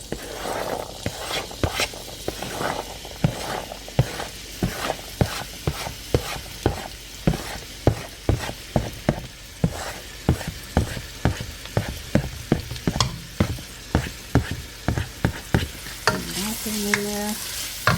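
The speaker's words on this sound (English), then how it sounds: "We're gonna throw in our onions and get them moving." Onions frying in olive oil for a spaghetti bolognese meat sauce, with a steady sizzle broken by rhythmic, regular scrapes and knocks of a spoon against the pan roughly every half second, close and with no voices.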